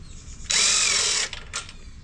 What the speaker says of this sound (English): Now I'm going to use an impact so I can move a little faster.